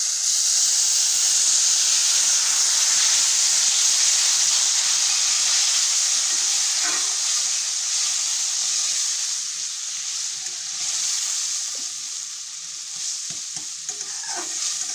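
Water hits hot semolina and ghee in a pan for suji halwa, raising a loud, hissing sizzle and steam that slowly eases off, with occasional stirring scrapes and no talking.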